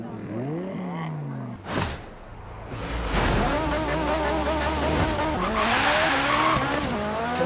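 A Ferrari Daytona built for drag racing in Forza Horizon 3, its engine roaring loud and close as it revs up through rising gear sweeps, with tire squeal and a continuous high-revving race under the action.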